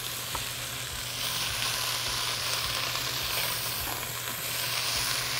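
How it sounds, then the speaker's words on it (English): Onions and portobello mushrooms sizzle loudly in a hot cast iron pot on a grill at about 400 degrees, a dense steady frying hiss with faint stirring scrapes and no talk. "So I'm going to blister up my onions. I'm going to go ahead and put in a tray of portobello mushrooms."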